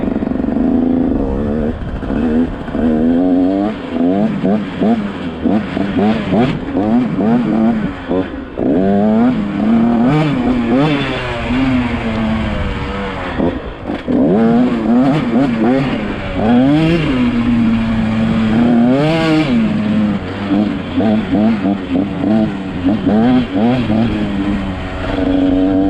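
A motocross dirt bike rides a slow lap of a sand MX track at Mt Morris, New York, heard close from the rider's position: a loud engine that repeatedly revs, rises and falls through gears over bumps, while the rider talks over it.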